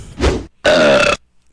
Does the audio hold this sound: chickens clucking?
no